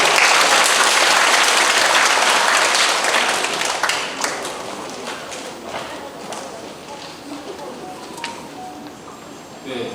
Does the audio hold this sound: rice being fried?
no